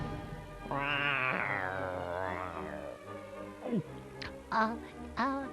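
A cat gives a long, drawn-out, wavering meow, then a few shorter chirps and sharp clicks, close and clear, with no one talking.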